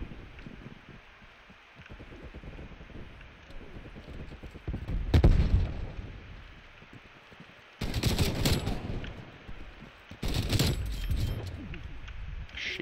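Enemy sniper fire in a video game: loud bursts of gunfire arrive in three clusters, around five, eight and eleven seconds, over a steady background of game noise.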